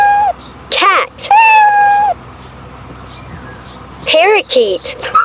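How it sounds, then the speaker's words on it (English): A cat meows loudly and close, two drawn-out calls followed by a pause and then two more, with no other sounds around them. "Cat."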